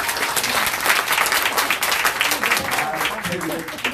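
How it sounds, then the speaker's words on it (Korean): A large audience at a Korean political party gathering claps steadily and densely throughout, a continuous wash of applause with a voice faintly audible beneath it. "큰 박수를 보내면서"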